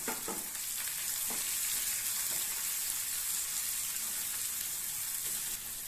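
Fennel seeds and finely chopped large onion fry in oil, a dense, steady crackling sizzle that runs the whole time with a few soft stirring knocks near the start, close by and with no one talking.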